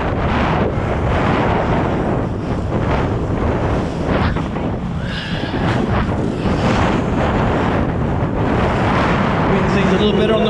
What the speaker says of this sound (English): Wind seems a little better on the way out this time.